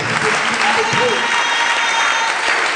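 A church congregation at a Sunday service claps in steady, full applause throughout, with voices mixed into the crowd noise.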